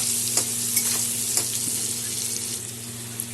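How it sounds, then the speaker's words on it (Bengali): Potatoes frying in a pan with turmeric and salt, a steady loud sizzle with several brief scraping stirs punctuating it, alone and up close. "আলুটা এখন আমি ভাজা করে নেব"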